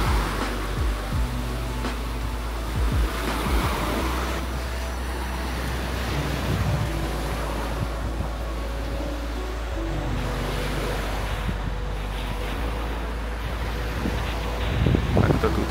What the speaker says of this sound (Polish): No, a tu mamy morze.